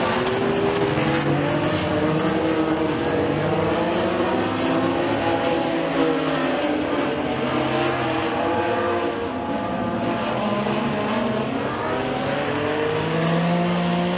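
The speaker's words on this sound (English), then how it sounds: "Cars still moving here." Dirt track race cars roar around Eriez Speedway during a heat race, engines sustained and loud with shifting pitch as the pack laps continuously, no talk over the noise.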